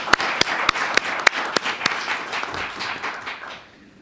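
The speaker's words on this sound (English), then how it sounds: "Let's give them a round of applause for their efforts." Audience applause after a debate on national security and cyber surveillance, a dense wash of clapping with a few loud sharp claps near the front, steady for about three seconds then fading away.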